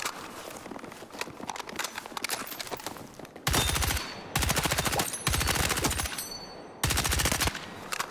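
Burst-fire weapon in a video game shooting in rapid, loud volleys, several bursts of quick repeated shots separated by short pauses, dense and close.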